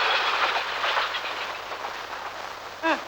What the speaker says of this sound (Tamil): கிழக்கே ரயில் கூட வந்துருச்சு